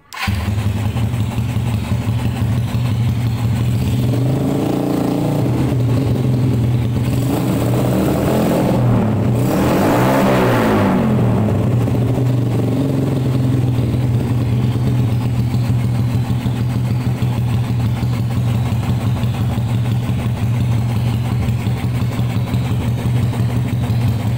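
A Yamaha Byson motorcycle engine cranks and catches, revs briefly, then settles into a loud, steady idle that rumbles on close by.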